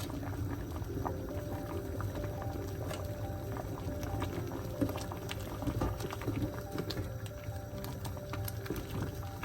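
Pumpkin and potato simmer in a pot of Sri Lankan-style sambar, a low bubbling, gurgling boil with soft irregular plops, close and steady, with no voices.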